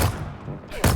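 Turret gunfire in the video game Dune Awakening: dense, rapid bursts of shots at the start and again at the end, loud and close, with a quieter stretch between.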